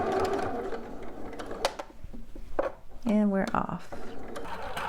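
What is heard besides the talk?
sewing machine back stitching a seam on shorts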